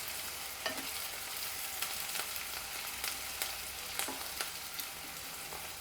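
Green chillies and curry leaves fry in hot oil in a pan, giving a constant bright sizzle broken by scattered sharp pops and crackles. No voices are heard.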